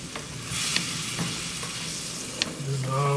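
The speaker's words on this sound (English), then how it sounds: "Now I cook the rice in the same skillet." Rice frying and being stirred in a skillet along with shrimp and parsley, a steady close sizzle broken by a few scraping stirs, with a louder burst of frying near the end.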